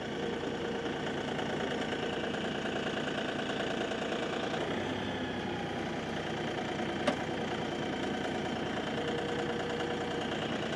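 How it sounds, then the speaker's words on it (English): Tractor with a front-mounted grade blade runs at a steady mid-pitched engine drone while throttled up to push cattail mud, with a faint clank near the end. "We'll throttle up."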